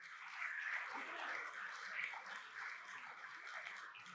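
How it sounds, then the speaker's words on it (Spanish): A church congregation applauds with a dense, continuous patter of many hands clapping at a moderate distance, holding steady without pause. "Da un aplauso al Señor."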